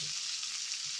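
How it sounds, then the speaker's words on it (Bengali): Chopped boiled potatoes sizzle in a pan while muri bhaja is made, giving a short, steady, quiet frying hiss with no talk. "আলুটাও একটু ভাজা ভাজা হয়ে গিয়ে"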